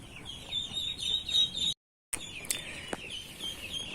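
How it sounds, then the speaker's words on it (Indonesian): Day-old laying-breed ducklings on a farm give a dense stream of high, thin peeps, fairly close and continuous, interrupted by a short silent gap partway through. "Ini bebek lur"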